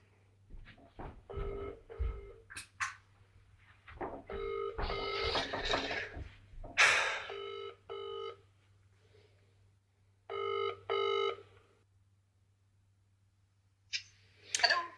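A telephone rings out on a call, with repeated electronic ring bursts spaced by pauses, mixed with clicks and a steady low hum, faint background voices at times.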